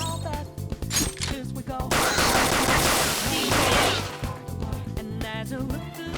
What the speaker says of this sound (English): You can continue shooting until you run out of ammunition.